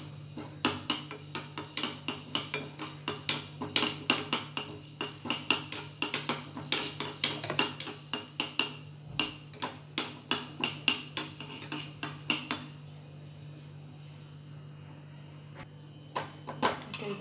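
A metal spatula clinks repeatedly against a pan while spices and pepper fry for a home-style rasam, close rhythmic scraping and tapping for about twelve seconds before fading to quiet sizzling.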